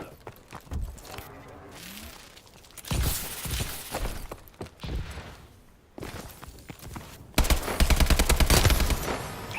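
Bursts of AK rifle fire in the shooter game Call of Duty: Advanced Warfare, with loud rapid volleys mid-clip and a dense sustained burst near the end, mixed with game effects and footsteps.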